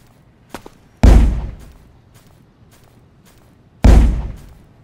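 Grenade launcher in the PC audio game Bloodstorm fires two heavy booming shots a few seconds apart, each a loud sudden blast trailing off into a decaying rumble, with a faint click beforehand.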